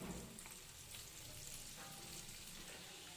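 Chicken lollipops fry in hot oil in a pan over a medium flame, giving a steady, faint crackle and sizzle with brief pops, and no voices.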